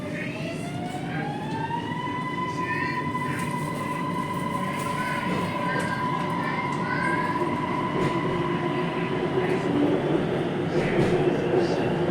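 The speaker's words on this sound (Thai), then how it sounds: "นี่รถไฟมาแล้ว" A monorail train pulls into an elevated station in Bangkok, its motor whine rising and then holding in a steady tone over rolling wheel noise, close and continuous for several seconds.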